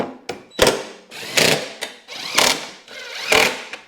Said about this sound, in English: Now I'm just gonna tighten these 4 bolts down,